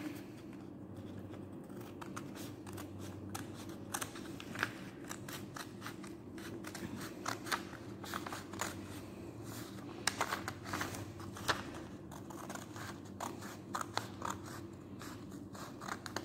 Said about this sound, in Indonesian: Nah, kemudian kita gunting.